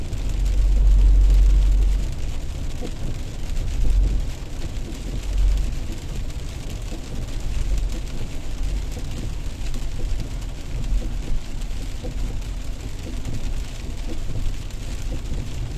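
Steady rain hisses around a car driving a winding road in Paphos, Cyprus, with a continuous wash of drops over low road rumble, no voices present.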